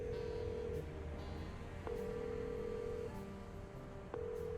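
Telephone dialing in the video game Chicken Police: a few sustained dial-tone-style beeps, separated by short clicks, play quietly and alone at a low level.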